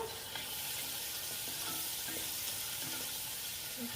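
Tomato passata, about four tablespoons, cooking in a pan for pasta e cucuzza, giving a steady soft sizzle and gentle bubbling with faint scattered ticks throughout.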